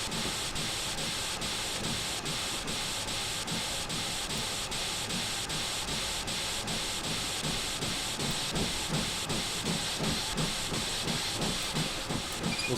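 Steam locomotive blower in a train simulator game, a steady, loud broadband hiss running continuously throughout with a faint rhythmic pulsing and no talk.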